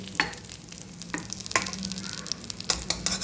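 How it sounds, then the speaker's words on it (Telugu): Ghee sizzling on dibba rotti in a hot pan, a steady low frying hiss with a few sharp scrapes and spatters, close and fairly quiet, no voices. "ఇప్పుడు దీనిలో కొంచెం నెయ్యి వేసుకోవాలి"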